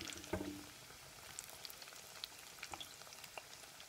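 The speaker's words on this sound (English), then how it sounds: "So I'm gonna let this fry to the finishing touch, to the finishing product" Green plantain pieces frying in oil, a faint steady sizzle with a few soft pops and crackles, a small clatter near the start, no talking.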